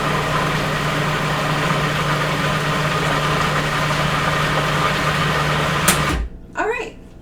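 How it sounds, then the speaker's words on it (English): Blender mixing ingredients for vegan gingerbread cookies gives a steady loud motor whir that runs close and unbroken, then cuts off abruptly near the end. A voice speaks briefly after it stops. "I'm just going to blend those guys together."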